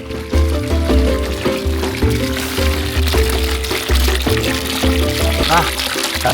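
Spring water from a mountain source pours steadily out of a hose, a continuous close gushing and splashing stream that carries on for the whole stretch.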